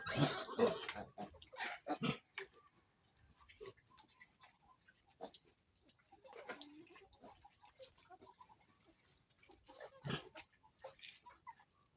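Newborn piglets and a mother sow on a backyard farm: faint grunts, squeals and snuffling come in scattered bursts, with a louder squeal cluster at the start and another near the end.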